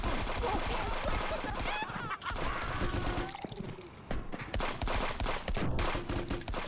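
A turret in the video game Friends vs Friends fires rapid bursts of gunfire mixed with other game noises and a descending whine, under players talking over each other.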